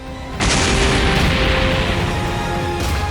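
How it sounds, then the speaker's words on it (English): A loud, sustained explosion blast in a Dragon Ball fan-made story, bursting in abruptly and roaring as dense rumbling noise that holds at full strength before easing slightly. "The explosion isn't lost on Dende."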